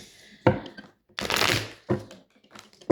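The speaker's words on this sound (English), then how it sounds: "So I'm going to shuffle and then I'm going to put out the cards." Tarot cards being shuffled by hand in a quiet room, heard as several separate close, crisp bursts of riffling with short silent gaps between them.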